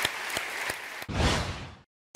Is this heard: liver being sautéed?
no